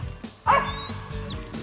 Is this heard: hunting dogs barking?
yes